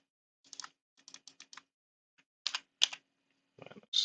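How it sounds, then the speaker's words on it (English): Keys clack on a computer keyboard at a desk in short bursts of crisp taps, a few quick strokes, then pauses, then more clusters, close and fairly quiet with no talking. "press O on your keyboard to -2"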